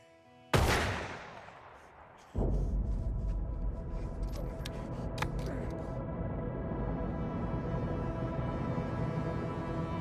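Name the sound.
gunshots in a crime film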